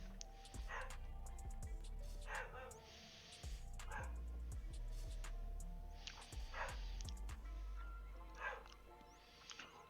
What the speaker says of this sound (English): Dog's barking, and I don't really know why.